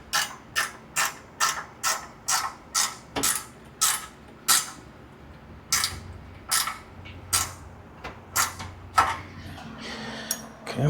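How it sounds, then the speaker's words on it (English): A ratchet wrench tightens bolts on a Buck stove heat exchanger, with a close, steady series of sharp clicking strokes that pause and then resume in quicker, uneven bursts. "Helps to have your ratchet wrench in the right direction."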